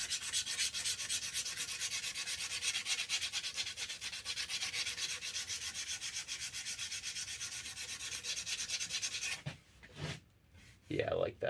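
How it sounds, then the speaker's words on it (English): Sandpaper rubs back and forth along the wooden haft of a vintage Rixford axe with a New England steel head, a close, steady rhythmic scratching. It ends with a few seconds of quieter, uneven sounds. "Just try to blend that in a little bit with some sandpaper."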